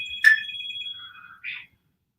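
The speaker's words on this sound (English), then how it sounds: "I got a phone call." A phone ringtone chimes with a short melodic tone pattern, ringing clearly and alone in a quiet living room before stopping abruptly.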